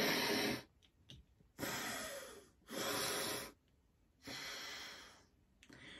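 Deep nasal breaths for Anulom Vilom alternate-nostril breathing exercise come in long, loud, airy inhales and exhales, each lasting about a second, separated by short quiet pauses and close to the microphone.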